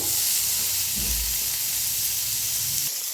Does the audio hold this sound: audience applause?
no